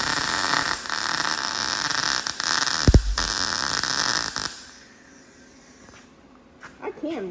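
Arc welding on a Ford disk harrow, a loud continuous crackling hiss that stops partway through, leaving quieter background sound and a brief voice near the end.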